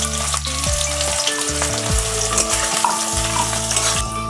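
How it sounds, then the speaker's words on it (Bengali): Onions fry loudly in hot oil with a close, crackling sizzle, while a spatula scrapes and knocks against the pan in an uneven rhythm; there is no talk. "পেঁয়াজটা দিয়ে আমি লাল লাল করে ভেজে নেব"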